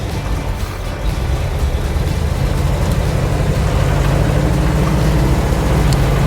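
A 1973 International Scout with a 345 V8 idling and running steadily, a loud, close, low engine rumble that holds even throughout with no speech over it.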